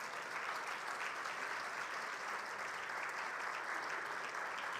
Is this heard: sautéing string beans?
no